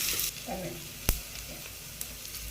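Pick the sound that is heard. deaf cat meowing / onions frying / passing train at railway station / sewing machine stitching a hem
onions frying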